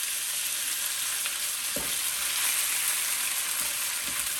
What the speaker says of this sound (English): and we're going to stir fry them.